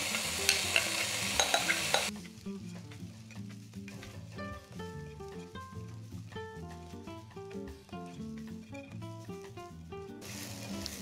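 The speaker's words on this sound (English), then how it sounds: "we're going to toast the rice along with the spices" Jasmine rice toasting with spices in a hot pan, a close stirring sizzle heard at the start and again at the end, with instrumental music playing in between.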